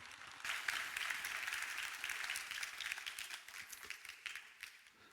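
A church congregation claps during a Sunday worship service, dense sustained applause with crisp individual claps throughout, fairly close and steady.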